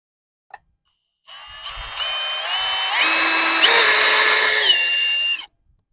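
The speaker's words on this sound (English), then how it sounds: "I'm going to trim this top bracket down so it'll fit where I need it to" A power tool whines steadily for about four seconds, rising in pitch partway through, as a top bracket on an old trailer is trimmed down during a rewiring job; the sound is loud and close, with no talking.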